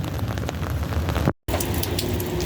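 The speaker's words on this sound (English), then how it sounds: "Light rain is falling." Light rain falls with a steady hiss and patter during a tropical storm in the desert. It continues unbroken except for one brief dropout in the middle.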